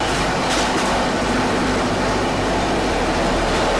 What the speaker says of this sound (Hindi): कोई ट्रेन किसी ट्रेन को ऐसे ओवरटेक करती हो